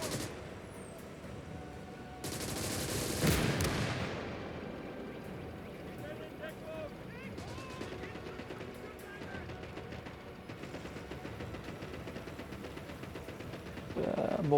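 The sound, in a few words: mortar fire in video game Call to Arms: Gates of Hell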